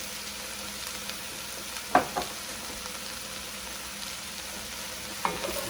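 Rice toasting in a hot pan with spicy Italian sausage and cauliflower, a steady dense sizzle with a few sharp scraping stirs, close and alone without voices.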